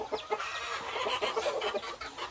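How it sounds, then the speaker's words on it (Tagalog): Native chickens cluck close by in quick, overlapping bursts, a busy run of short calls from the flock with no voices. "ito mga manok"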